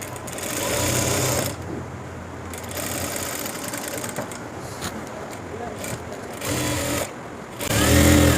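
Sewing machine stitching a V-shaped seam on a school uniform coat: loud, close, steady whirring runs that pause briefly and restart, with a voice talking over the machine.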